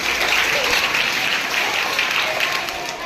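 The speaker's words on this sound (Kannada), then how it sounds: "ಚಪ್ಪಾಳೆ ಬಹಳ ಚಂದ" Audience applause at a school magic show, a steady dense clapping from a crowd that stays loud and even for the whole stretch, with faint voices mixed underneath.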